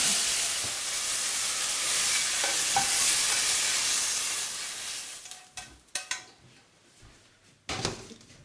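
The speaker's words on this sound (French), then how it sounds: "Ensuite, ajoutez de nouveau un peu d'huile et passez à la cuisson des champignons" Mushrooms frying in oil in a pan for Korean japchae with sweet potato noodles: a steady, loud sizzle for about five seconds, then quieter spitting with a few sharp clinks of stirring, no talk.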